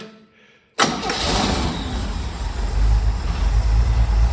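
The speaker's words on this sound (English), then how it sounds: "I already had it running for a little while, got it up to temperature, but let's fire up again" A classic car engine, already warmed up, cranks briefly and fires into a loud, steady idle that stays close and continuous, with no talk over it.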